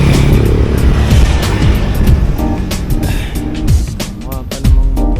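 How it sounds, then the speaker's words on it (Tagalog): Four-year-old Honda Click motor scooter, its engine running with a steady low drone and some passing traffic noise around it, while someone talks intermittently. "So ito ang aking Honda Click."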